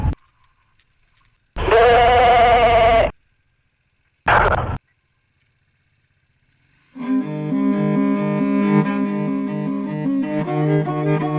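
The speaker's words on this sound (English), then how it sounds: "Lots of sheep or goats or whatever up here, be careful." Two bleats from a nearby sheep or goat, one long and wavering, one short, separated by silence, then steady tonal music.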